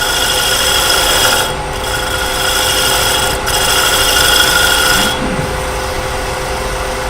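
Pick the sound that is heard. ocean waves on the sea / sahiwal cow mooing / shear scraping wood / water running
shear scraping wood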